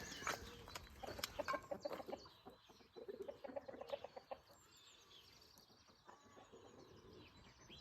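Chickens cluck and chirp in a busy farmyard, with overlapping calls of varying loudness and a steady background of bird noise.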